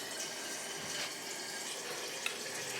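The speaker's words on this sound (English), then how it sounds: "If Mason, you wanna rinse off the brush." Tap water runs steadily into a sink as a paint brush is rinsed under it, a continuous close hiss of splashing water with no talk.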